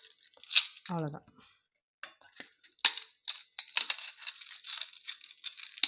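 Fried appalam (papad) pieces are crushed by hand for appalam kottu, giving a series of crisp crackling and crunching snaps in irregular bursts, with a brief voice sound early on.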